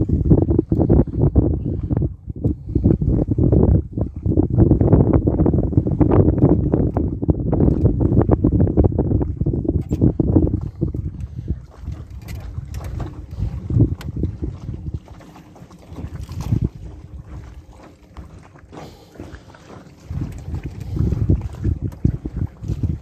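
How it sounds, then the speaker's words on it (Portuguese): A fishing boat's motor throttled down to a slow idle, a steady low rumble loudest for the first ten seconds, then easing into a quieter churn mixed with wind and water noise. "Vou pôr o motor bem devagarzinho."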